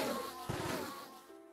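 Bees buzz in modded Minecraft, a brief, soft droning hum that swells for under half a second over a faint background hiss.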